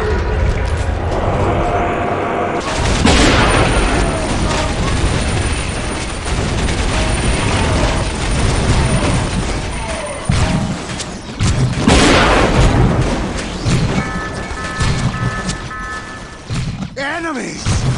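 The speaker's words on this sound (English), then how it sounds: "We are taking fire!" Battle gunfire and explosions in the Dawn of War Soulstorm real-time strategy skirmish form a dense, loud continuous din of booming blasts and rattling fire, with unit voice barks heard over the chaos.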